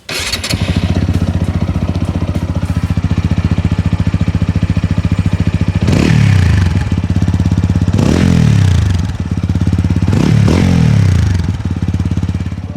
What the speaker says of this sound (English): It is a very nice and throaty exhaust note